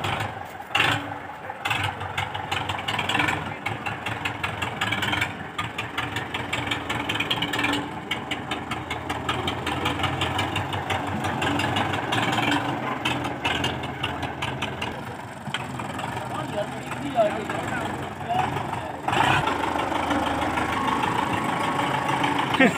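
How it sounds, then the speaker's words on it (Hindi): A tractor engine idles and revs steadily close by during an effort to pull a stuck trolley free, a continuous rumbling drone with shifts in load and a few breaks, no talk heard. "दूसरा ट्रैक्टर आ गया है"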